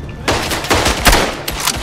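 Rifle fire in the World War I shooter Verdun: several loud, sharp shots in quick succession, close and punchy, with brief gaps between bursts.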